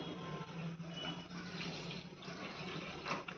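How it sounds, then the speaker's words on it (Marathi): Water is poured from a vessel into a metal plate resting on top of a cooking pot of mutton curry, a soft, steady trickling splash that runs continuously and fairly quietly. "त्याच्यावरती एक असं ताट ठेवायचं आणि त्याच्यामध्ये थोडंसं पाणी घालून घ्यायचं"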